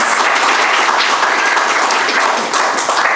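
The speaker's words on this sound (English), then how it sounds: "Let's give them a round of applause, our program directors" A round of applause at a veteran-owned small business accelerator demo day for the program directors, a dense, close burst of many hands clapping steadily throughout, with no voices over it.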